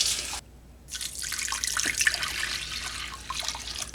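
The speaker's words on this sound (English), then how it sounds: "And then I'm going to add 2 cups of warm water." Warm water poured from a tap into a mixing bowl for donut dough, a steady close hiss of running water after a brief pause, continuing without talk.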